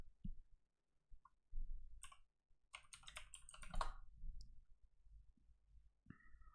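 Someone types on a computer keyboard in quick, uneven bursts of close clicks, with short pauses between runs and faint low room rumble.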